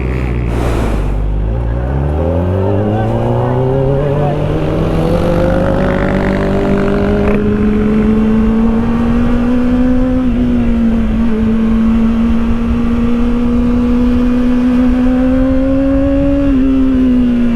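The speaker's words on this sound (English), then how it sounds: "was trying to do burnout, but the tire grip is just too much to overcome, to be overcome by the bike's torque" A Kawasaki Ninja ZX-4RR motorcycle engine revs hard and holds a high, steady rising whine during an attempted burnout, loud and close, with the pitch climbing sharply at first then sustaining.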